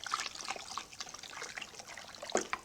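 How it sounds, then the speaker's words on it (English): Fermenting pear wine must is stirred, producing soft, close, intermittent liquid sloshing and dribbling at low volume. "Let's give it a stir here."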